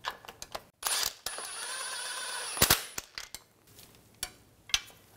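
Ratchet snugging the thermal bypass valve bracket bolt on a 2015-2020 GMC Yukon XL, heard as a run of close mechanical clicks and metallic clanks with a sustained whir in the middle, no talk.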